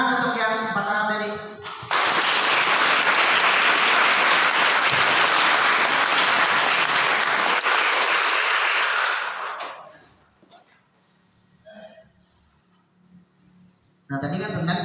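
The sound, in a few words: audience applause at leadership training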